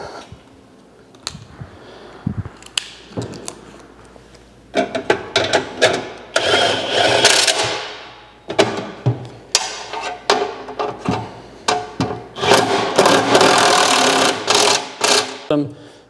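Nylon lock nuts being snugged onto a VAL-CO 150 lb poly hopper assembly, giving irregular bursts of close scraping, rubbing and ratcheting tool noise that grow busier and denser toward the end.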